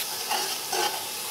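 Chopped tomatoes, crushed chili and salt stirred into a hot frying pot for beef pulao, giving a soft steady sizzle with two brief swells of stirring, close and without talk.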